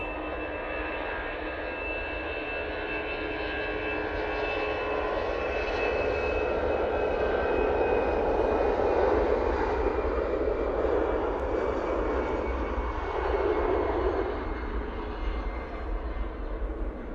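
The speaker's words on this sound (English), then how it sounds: "Brussels Airlines A380 going back off to proper Brussels." Brussels Airlines Airbus A380 jet departing Manchester Airport, a sustained, distant engine roar with a steady whine that swells slightly in the middle and fades gently toward the end.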